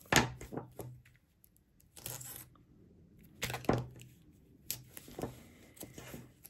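Tape tearing off a roll to secure a handmade shaker card, several short sharp rips spaced a second or so apart with quiet rustling between, close and fairly soft.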